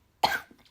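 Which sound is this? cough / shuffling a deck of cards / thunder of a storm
cough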